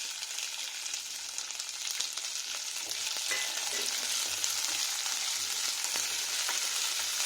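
Chopped onions sauté in hot oil with fried garlic for chilli idly, a steady close sizzle with occasional stirring scrapes running unbroken and alone.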